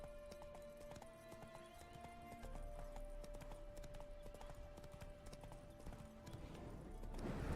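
Horse hooves clip-clop in a steady rhythm close by in The Witcher 3: Hearts of Stone, with a low hum underneath and a rising whoosh at the end.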